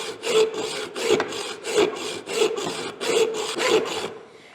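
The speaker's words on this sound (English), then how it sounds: "Oh, I've got to use my horrible hacksaw." A hacksaw cutting through a metal rod on a John Deere hood latch repair, close and loud, with six or seven steady back-and-forth strokes of rasping, grinding metal in an even rhythm before stopping.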